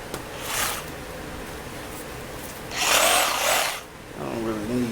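A Sawzall reciprocating saw cuts on a cargo trailer door in two short, harsh buzzing bursts, the second longer and louder, before a voice speaks briefly at the end.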